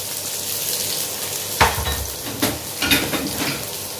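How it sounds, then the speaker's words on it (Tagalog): Garlic sizzles in hot cooking oil for a Filipino beef, cauliflower and broccoli dish, a steady crackling fry with a few sharper bursts and scrapes of stirring toward the end, with nobody speaking. "Dahil mainit na yung ating mantika, maglagay na tayo ng garlic."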